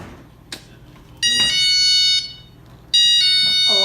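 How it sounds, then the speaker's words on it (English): A newly installed door alarm sounds two loud, sustained electronic tones of a bit under a second and about a second, separated by a short gap, with a faint tap and brief handling noise nearby. "it chimes or an alarm"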